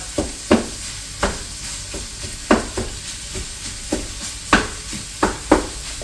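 Sausage for cornbread stuffing is broken up in a hot pan, giving a steady sizzle and hiss with scattered scraping taps from a utensil at an uneven pace.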